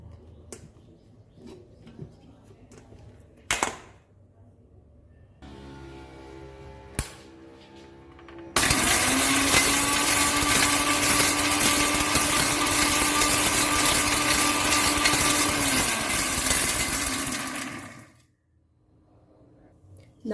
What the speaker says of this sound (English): And now we'll grind this to fine powder.